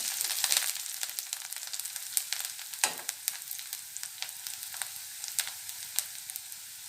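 Fresh coriander leaves drop into hot oil for a Maharashtrian peanut chutney, and a steady bright sizzle follows with small crackling pops scattered through it. The frying stays close and even throughout, with a brief burst near the start.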